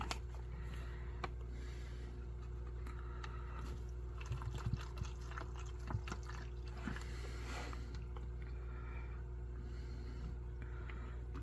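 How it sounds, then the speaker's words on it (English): Water is poured carefully into an MRE pouch, a steady thin trickle with light plastic crinkling over a constant low hum. "I may have put too much water in here."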